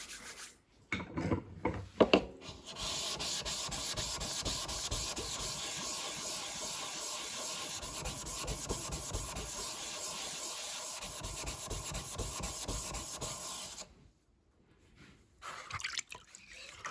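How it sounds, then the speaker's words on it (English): Chisel blades being sharpened by hand, a steady rhythmic rubbing and scraping of steel on a stone that runs for most of the stretch, with a few sharp scrapes at the start and a pause near the end. "So let's do a little sharpening, shall we?"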